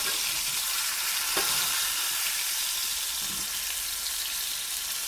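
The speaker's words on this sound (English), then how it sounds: "The fish has been frying for about 5 to 7 minutes on high heat." Snapper sizzles steadily in a pan on high heat, a constant loud frying hiss with one brief clink partway through.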